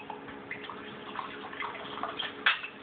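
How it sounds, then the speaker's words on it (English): A drink is poured into a glass, giving faint dripping and trickling liquid sounds with a brief splash near the end. The pour is quiet and has no voices over it. "we're going to go ahead and pour you a glass"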